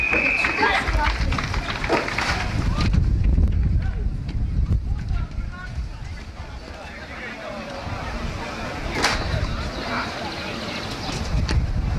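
Wind buffets the microphone at a rugby sevens match between Luxembourg and Iceland, a rough, gusting rumble under a commentator's ongoing speech.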